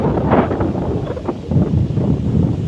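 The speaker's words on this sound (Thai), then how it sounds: "แพข้างโขง ลมเย็นเย็น" Cool wind gusting across a raft moored beside the Mekong river, a steady close rumble of buffeting air against the microphone with no voices.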